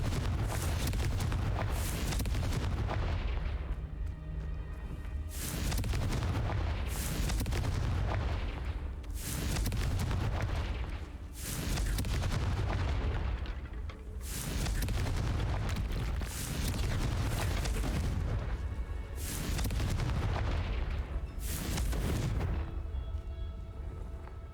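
In the video game Hogwarts Legacy, the Confringo fire spell sets off repeated heavy blasts, about eight deep booming bursts spaced a few seconds apart over a constant loud rumble.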